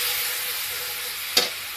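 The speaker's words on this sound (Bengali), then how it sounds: "তার মধ্যে আমি তরকা মশলাটা ঢেলে দিলাম" Tarka spice mix hits a hot pan with a steady, loud sizzling hiss that carries throughout, with a brief sharp burst of spattering near the end.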